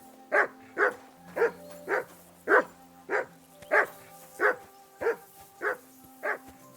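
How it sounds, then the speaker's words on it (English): A dog in the video game Kingdom Come: Deliverance 2 barks eleven times in an even, steady rhythm, each bark short and clear against a quiet background with faint low tones. "that barking's driving me nuts"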